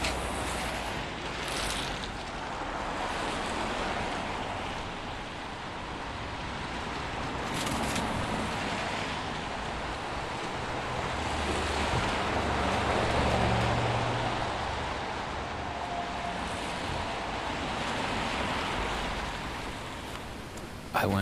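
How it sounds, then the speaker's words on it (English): Cars hiss past on a wet road, a steady broadband swish of tires on water that swells and fades over about twenty seconds, with no talking. "There's always something satisfying in the sound of a car passing, but when there's water on the ground"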